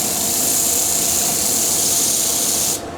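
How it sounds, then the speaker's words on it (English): A wood lathe turning a piece for patio skittles runs at about 1,000 rpm, a loud steady whirring hiss that continues evenly before dropping off near the end. "My lathe speed needs to get turned right down and on again."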